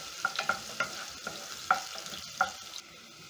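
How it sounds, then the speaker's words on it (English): Onions being stirred in a pot for a cheap vegetable stew, a quiet sizzle broken by several sharp scrapes and clicks of the spoon at irregular intervals, close and fairly faint. "Stir in the onions and let the onions cook until soft."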